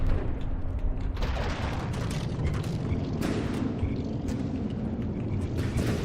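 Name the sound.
explosions in a video game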